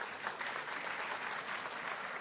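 Audience applause at a KNUST university congregation (graduation) ceremony, steady continuous clapping from a large crowd, fairly faint and distant throughout.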